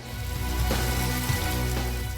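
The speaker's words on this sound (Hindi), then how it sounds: "लखीसराय में भी सुबह से ही तेज हवा के साथ मूसलाधार बारिश हुई।" Heavy rain in strong wind in Lakhisarai, a dense, steady hiss and patter that fills the whole stretch, with no voices.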